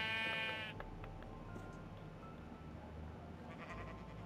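A sheep in the Minecraft video game bleats once at the start, a short wavering game sound effect, followed by quieter background noise.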